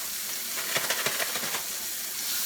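Onions and peppers from a prepared meal kit sizzle in a pan, a steady close hiss with a few brief crackling pops, no voices.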